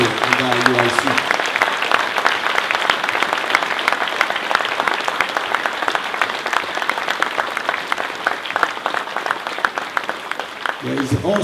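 A church congregation at a Passover class claps together in steady, dense applause, fairly loud and continuous, with a voice briefly heard at the start and end.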